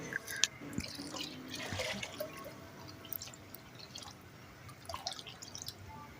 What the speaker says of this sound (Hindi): देगची में पानी डाल देंगे।